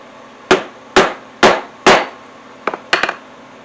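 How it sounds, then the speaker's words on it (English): A hammer strikes a metal punch through leather for a hat band: four evenly spaced sharp, loud knocks, then a pause and a couple of quicker, lighter taps, close up with no talking. "So we'll punch our hole."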